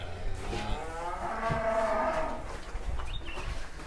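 A giant contest bull at a cattle show warm-up lets out a single long, deep moo that swells and fades over a couple of seconds, loud and close against steady background crowd noise.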